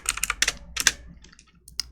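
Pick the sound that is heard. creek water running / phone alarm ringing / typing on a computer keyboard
typing on a computer keyboard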